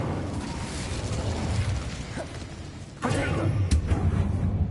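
Incendio fire spell from Hogwarts Legacy, a whooshing burst of flame that flares sharply partway through over steady background game sound.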